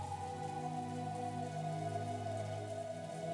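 Steady wind and rain from the Umineko visual novel, a continuous even wash of rainfall with a low droning hum underneath, unchanging and alone throughout.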